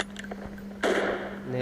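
A single M24 sniper rifle shot in a first-person shooter game, a sudden loud broadband crack that rings out for a second over a steady low game hum.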